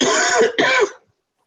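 A person coughs twice in quick succession, the two harsh, raspy bursts loud and close, each about half a second, then silence.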